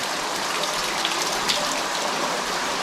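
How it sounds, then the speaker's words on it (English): Water dribbling steadily off the stock plank of a historic narrowboat hull during blacking, a continuous close splashing and trickling patter with no talk. "Just the stock plank dribbling a bit."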